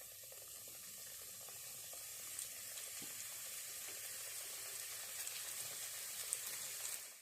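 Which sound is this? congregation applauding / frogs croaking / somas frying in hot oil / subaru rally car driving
somas frying in hot oil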